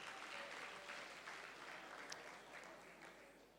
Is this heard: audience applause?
yes